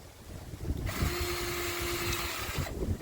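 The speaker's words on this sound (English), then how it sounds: "Now I'm just drilling it to the correct size" A power drill bores a pilot hole out to size in a STIHL string trimmer shaft, giving a steady, close, high-pitched whine for about two seconds.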